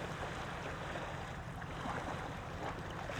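Choppy water stirred up by wind at night, a faint, steady wash of small waves and lapping with breezy hiss throughout, distant and even, with no voices.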